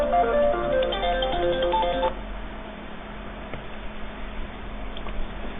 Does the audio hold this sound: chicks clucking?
no